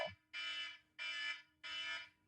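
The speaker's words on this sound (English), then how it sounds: "That's the alarm." An alarm goes off in three long, evenly spaced electronic tones, each about a third of a second with short gaps, fairly faint and with no talking.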